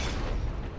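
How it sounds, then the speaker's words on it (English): A dull, muffled explosion rumbles through combat in Mass Effect 3, a short low boom that stays loud and steady for under a second with no clear attack. "Explode."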